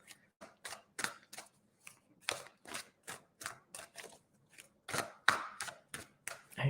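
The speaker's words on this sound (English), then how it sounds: "I'm just giving the cards a good shuffle for you" A deck of tarot cards is shuffled by hand in a quiet room: a quick run of short, papery riffling bursts in an uneven rhythm, close and fairly soft, with no talking.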